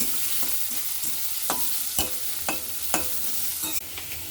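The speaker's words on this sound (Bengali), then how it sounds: "পেঁয়াজটা আমি একটু লাল লাল করে ভেজে নেব" Onions fry in a pan with a steady sizzle, broken by regular spatula scrapes and taps against the pan about every half second, close and with no speech.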